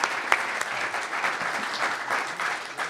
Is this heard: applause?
yes